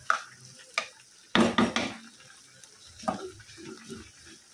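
Dried fish (shutki) with spices frying in a pan after a splash of water, a sudden loud sizzling burst lasting under a second, then quieter intermittent stirring scrapes and soft sputters close by.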